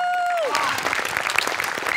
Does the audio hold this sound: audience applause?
yes